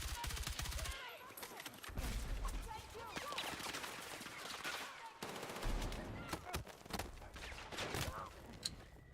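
Rapid gunfire from a video game, with dense bursts of shots and automatic fire running loud almost without pause, while a voice talks over the action.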